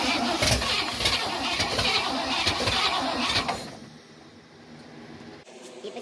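A 1959 Pontiac engine with untuned timing cranks and catches, loud and close with a rough uneven churn for several seconds before dropping to a quieter idle-like rumble with a few sputters.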